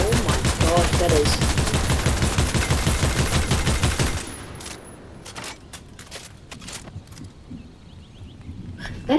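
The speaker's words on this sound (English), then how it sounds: "it's a gun, new gun. So we'll test it out." A new gun fired in Fortnite, a rapid, loud automatic burst lasting about four seconds, then quieter clicks and reloading noises with scattered faint taps, and one sharp shot at the very end.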